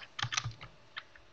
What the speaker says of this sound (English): I'll just type in